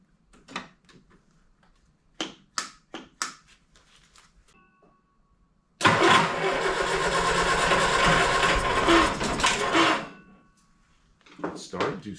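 A 1971 Triumph Spitfire MK III engine cranks and briefly fires in a loud, dense burst of about four seconds, between short knocks and bumps, then cuts out.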